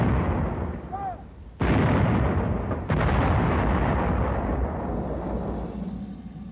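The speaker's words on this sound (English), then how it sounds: "Here are the 2 whoppers the howitzer pounds out." A howitzer firing high explosive shells, two heavy booming reports a little over a second apart, each followed by a long rumbling wash of noise that slowly fades.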